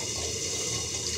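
Water is poured into a pan of tomatoes cooking on the stove, producing a steady, close, hissing gush of liquid throughout, with no speech.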